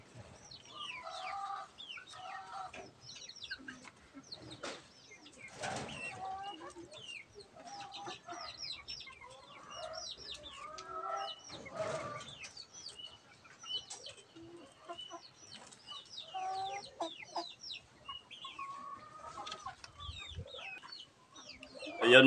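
Hens cluck and murmur steadily close by, with overlapping soft calls and occasional louder squawks throughout, no talking.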